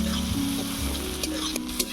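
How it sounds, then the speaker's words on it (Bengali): Onion and garlic paste fry in a pan with a steady close sizzle and a few sharp spatter pops, while a low humming tone runs underneath. "পেঁয়াজ রসুনটাকে লাল লাল করে ভেজে নেব।"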